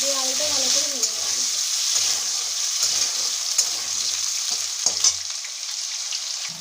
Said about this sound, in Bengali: দিয়ে আলুটা ভালো করে ভেজে নেব।